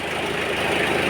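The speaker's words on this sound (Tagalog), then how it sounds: "Medyo malakas pa nga ngayon dahil bagong start ulit eh yung clutch pan." A Mitsubishi L200 engine runs just after a restart, its clutch fan roaring strongly: a steady, loud, continuous whirring drone close by, with no talk.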